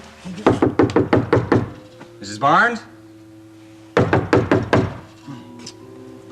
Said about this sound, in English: Why don't you knock louder?